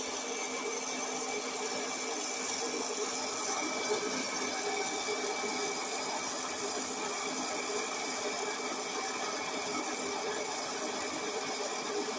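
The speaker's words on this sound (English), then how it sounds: "the cool thing about the air popper is that it is evenly heating these kernels, so you get a lot higher of a pop rate this way" A hot air popper heats Glass Gem popcorn kernels with a steady, even whir of blowing air and motor hum. The sound holds without popping or talk.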